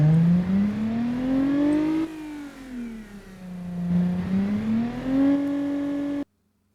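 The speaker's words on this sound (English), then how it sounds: "this is a cruiser engine, remember" A cruiser engine in a 1990s American luxury car built in Automation and driven in BeamNG.drive revs loudly and alone, its pitch rising, dipping and climbing again over about six seconds before cutting off abruptly.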